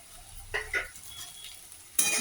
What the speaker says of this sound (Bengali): এগুলো সব একসাথে ঢেলে দিলাম